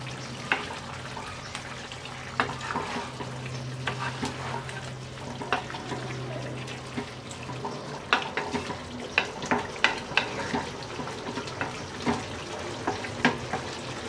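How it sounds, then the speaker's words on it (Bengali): Drumstick curry with chopped coriander being stirred in a sizzling pan: continuous frying hiss with regular spoon scrapes and clinks against the pan, close and fairly loud, no voices. "এবার আমরা ধনেপাতা কুচি দিয়ে নেড়ে চেড়ে নামিয়ে নেব।"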